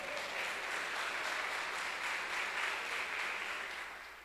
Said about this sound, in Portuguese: Quem recebe essa palavra, dê um aplauso ao Senhor.